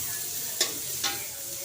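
Onions sautéing in a pan for pancit canton make a soft steady sizzle, broken by two brief scraping stirs of a utensil, with no one speaking.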